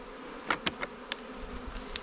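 Honeybees in a hive box give a faint, steady hum broken by several brief, sharp buzzes of individual bees flying close past.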